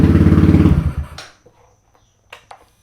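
Kawasaki Z125 motorcycle with an upgraded clutch pulling away in first gear, a close rough engine burble for about a second that drops off sharply, followed by a few faint clicks and taps.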